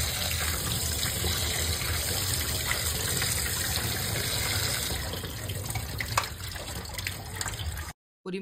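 A kitchen tap runs steadily while mutton is washed, a loud close gush of water with faint splashing and clatter as the pieces are handled, cutting off abruptly near the end.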